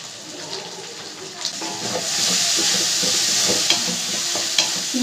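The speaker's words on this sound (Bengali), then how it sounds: "চিংড়ি মাছটা আমরা ভাজা ভাজা করে নেব।" Prawns coated in salt and turmeric fry with ginger-garlic paste in a pan, a bright sizzle swelling louder partway through while a spatula taps and scrapes now and then.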